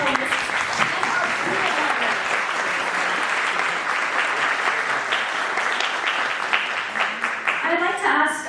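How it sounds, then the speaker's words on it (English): A conference audience at the Garje Marathi Global Horizon 2025 event applauds its panelists with sustained, dense clapping that stays loud and even before thinning toward the end, with some crowd voices mixed in. "Let's give a huge round of applause to our incredible panelists."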